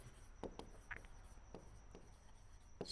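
Chalk or marker taps and strokes on a board while maths is solved in a Class 10 coordinate geometry lesson, faint, sparse scratches at irregular intervals in a quiet room, with no speech.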